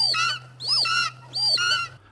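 Bird sound effects from a low-budget UFO horror movie: three harsh, honking goose-like calls in a row, each about half a second long, loud and close over a low hum.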